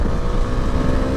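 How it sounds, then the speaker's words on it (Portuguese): A Bajaj Dominar 400 motorcycle engine roars steadily under acceleration, a dense, loud drone mixed with wind rush, close and without talk. "vou dar uma aceleradinha só para a gente sentir um top speed desse motor"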